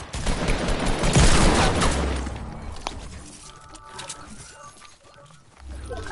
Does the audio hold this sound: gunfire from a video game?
yes